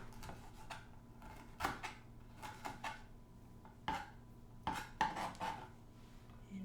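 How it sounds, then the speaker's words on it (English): A knife thinly slicing ginger on a board while preparing Filipino lechon kawali, giving faint, irregular clicks and taps against a low hum, with a few louder knocks spaced across the moments. "Just thinly slice. Slice it thinly."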